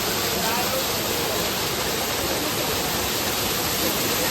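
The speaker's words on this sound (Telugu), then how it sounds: "కొంచెం భయంకరంగా కూడా ఉంది వాటర్ ఫాల్" A waterfall at Araku, seen from a high rock above it, roars as a steady, dense broadband rush that holds at the same level from start to finish with no breaks.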